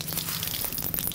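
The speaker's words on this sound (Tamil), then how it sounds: "ஆயில் ஹீட் ஆயிடுச்சுப்பா, அது கடுகு போடுறோம்ப்பா" Mustard seeds are dropped into hot oil, giving a dense, close crackle of quick pops and sizzle over a short burst with no talking.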